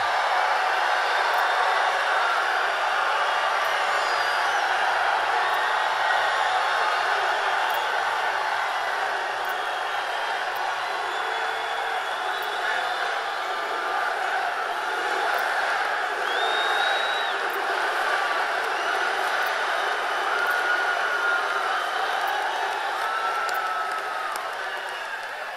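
A large rally crowd cheers and roars as a steady, dense wash of voices that holds for the whole stretch and fades slightly at the end.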